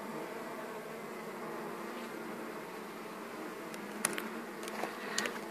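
Bees hum around an opened log beehive that has been robbed of its honey, a steady close buzz with a few louder passes as single insects fly near, and no talking.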